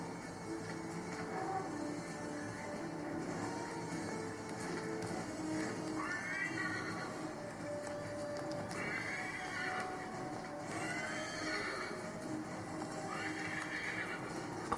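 A horse in Assassin's Creed 3 neighs and whinnies several times while its hooves clip-clop steadily underneath, over a continuous game ambience with no talking.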